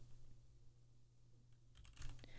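Keys tapped on a computer keyboard set to a Spanish layout during a handcam stream, with a few faint clicks over a low steady hum, then a short cluster of closer keystrokes near the end.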